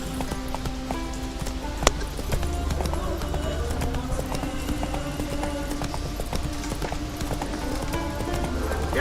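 A horse's hooves clip-clop at a steady gallop in The Witcher 3, a rapid rhythmic patter running throughout, with a brief sharp knock early on and faint voices mixed in.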